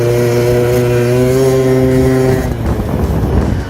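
A Piaggio Zip scooter with a 17.5 carburettor, 85 jet and open cone filter revs hard, its loud, buzzy two-stroke exhaust holding a high pitch before dropping off near the end, close and unaccompanied.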